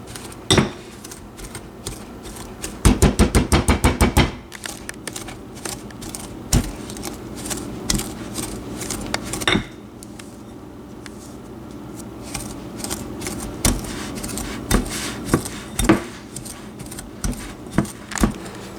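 Butter being cut into flour for a blue cactus coffee cake's crumb topping, heard as close, sharp clicks and scrapes of a utensil against a bowl, with a quick rattling burst near the start and irregular taps after.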